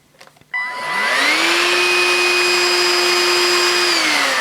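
A Dirt Devil HandiClean 14.4V cordless stick vacuum switches on after a few small clicks, its motor whining up in pitch within a second, then holding a loud, steady, close hum before starting to wind down at the end.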